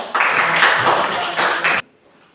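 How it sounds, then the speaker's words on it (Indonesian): Group applause in a classroom or church setting for a student group, a dense burst of clapping that runs about two seconds and then cuts off abruptly into near silence. "Kita beri tepuk tangan untuk kelompok 2"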